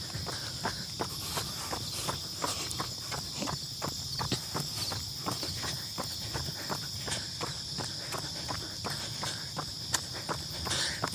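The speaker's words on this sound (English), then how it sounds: "For me, I heard crickets" Crickets chirp in a steady high trill through an outdoor run, while regular footsteps thud beneath at a quick jogging rhythm; all of it is fairly quiet and there is no talking.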